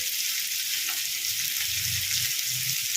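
Seer fish frying on a tawa, a steady bright sizzle of hot oil close by, with faint low murmurs beneath.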